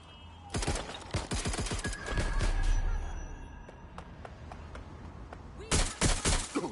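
Gunfire in the video game Watch Dogs Legion on PS5, sharp rapid bursts of automatic shots at the start and again near the end, with scattered single cracks and a low thump between them.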